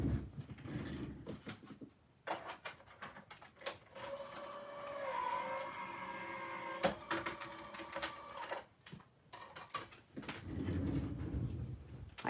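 A small die-cutting machine cranking a paper card through its rollers in a craft room, a steady mechanical whirring hum with clicks and bumps at the start and finish, close and fairly quiet.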